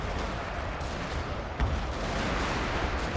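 Continuous artillery fire in a battle video game: a dense, steady roar of overlapping booms and blasts with no gaps, loud and unbroken, with one heavier impact partway through.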